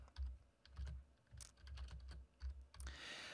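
Keys clatter on a computer keyboard in bursts of quiet, close tapping with soft low thumps, ending in a brief rush of noise.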